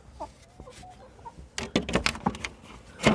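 Chickens cluck and scratch around a bird feeder, with soft scattered clucks at first, then a busier run of pecking taps and clucks close by, ending in a louder burst.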